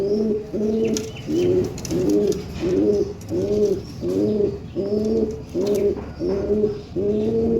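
Fantail pigeons coo in a steady rhythmic series, about eleven close, loud throaty phrases repeating evenly, with faint chirps in the background.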